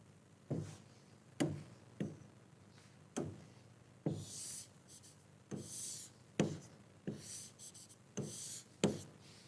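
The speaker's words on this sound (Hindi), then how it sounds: "मैं एक डायग्राम बना रही हूँ" Chalk or marker on a board as a teacher draws a diagram of a leaf: faint taps and short scratching strokes in an irregular rhythm, quiet and close, with no talking.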